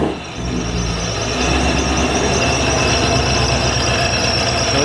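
A Procharger-supercharged Ford Mustang GT350 with a TiAL blow-off valve starts up. A loud, close, sustained engine roar with a whining tone comes in after a brief dip at the start and holds steady throughout.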